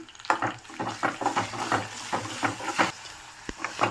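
Potatoes coated in green chilli paste and turmeric are stirred in a frying pan, a spoon scraping in steady repeated strokes over a soft constant sizzle, with an occasional sharper clink of metal.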